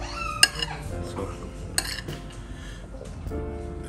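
Mutton biryani being mixed on a plate with salna and pachadi in a restaurant, heard as close, intermittent clinks and scrapes of a utensil against the plate, with a few sharper knocks between quieter stirring.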